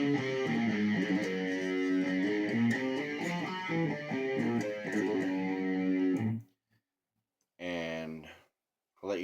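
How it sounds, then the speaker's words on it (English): Electric guitar plays a G whole tone scale, evenly stepped notes in a steady ascending line, then a short pause and a brief final strum. "G whole tone scale would sound like this."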